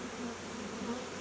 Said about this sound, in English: So I'm just going to take the bees out and shake them out.